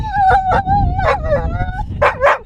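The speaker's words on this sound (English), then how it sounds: "which our very impatient dog wasn't too happy about" An impatient dog waits its turn at the crowded summit trig point of Snowdon, whimpering in rising and falling whines and letting out sharp yips, loud and close.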